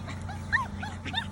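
English Labrador Retriever puppies whimper and yip in a series of short, high, wavering cries, close by over a steady low background hum.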